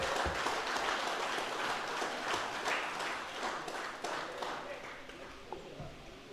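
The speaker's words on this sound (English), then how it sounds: "Big round of applause." Audience applause at a sports club awards presentation, a dense, sustained clatter of clapping that gradually thins and fades toward the end, with voices faintly mixed in.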